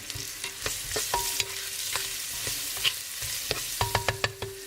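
Food frying in a pan for a detox soup, with a steady sizzle broken by repeated sharp scrapes and clicks of a utensil stirring against the pan, close and fairly loud.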